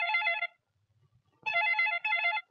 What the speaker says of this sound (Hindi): 9वीं बार फोन कर रहा हूँ